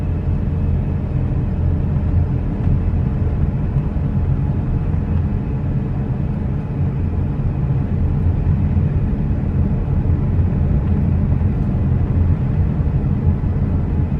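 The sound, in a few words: car driving on a dark highway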